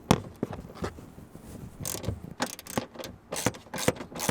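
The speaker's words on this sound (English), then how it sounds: "Just unscrew them with the 14 mil" A ratchet with a 14 mm socket unscrews racing seat bolts, giving quick bursts of clicking pawl strokes at close range, with short pauses between sets of turns and no talking.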